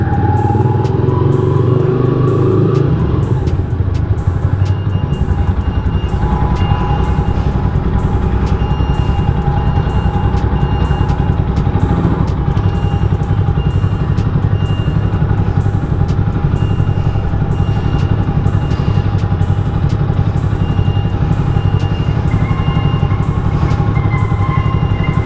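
A three-year-old Rusi Classic 250 motorcycle rides up and down a parking ramp, its engine running in a loud continuous drone close to the recording with a low rumble, shifting slightly in pitch, with no talk.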